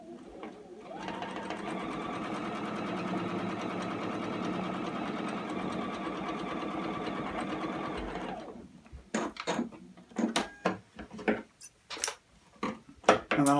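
A sewing machine stitches a quilt block in one steady, fast, even run for about seven seconds, then stops, followed by clicks and handling noises.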